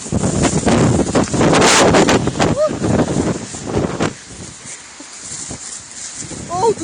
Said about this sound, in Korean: 바람 너무 많이 불어.